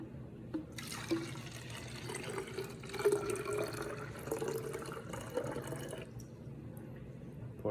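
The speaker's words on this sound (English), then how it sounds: "I'll pour this one first." Liquid is poured from one container into another during a chemistry clock reaction experiment. A soft, continuous trickling and splashing starts about a second in and stops near six seconds, with a quiet background.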